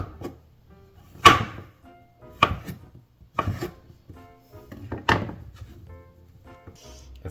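A knife cuts through chicken of the woods mushroom on a board, giving four or five separate close thunks spaced a second or two apart, with quiet pauses between them.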